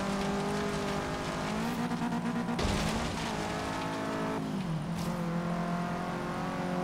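A race car in Forza Horizon 3 on PC drifts hard, its engine note rising and dipping between gear changes while tires squeal through the slide, loud and continuous with no voices.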